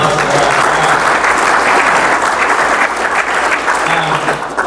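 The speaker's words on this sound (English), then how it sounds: "we need a round of applause for" Loud, dense round of applause from a breakfast-meeting audience at a panel event, close and continuous for several seconds with no break.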